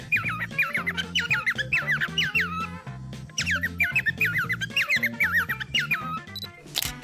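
Parrot squawking in a comical clip with a dog nearby, giving repeated bursts of shrill, chirpy squawks in two close, loud runs, separated by a short pause and ending in a sharp squawk.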